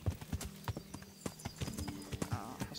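Hoofbeats of a horse ridden along a trail in the video game Kingdom Come: Deliverance, a quiet, steady clip-clop rhythm heard alone with no talk.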